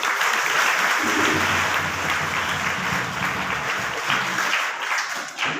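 An audience at a Marathi book launch claps together in a sustained, dense burst of applause that holds steady for several seconds, with faint voices underneath.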